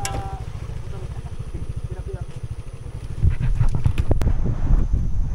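Strong wind buffeting the microphone at a mountain campsite on Mt Banahaw, a steady low roar with rhythmic rumbling that grows louder and gustier toward the end.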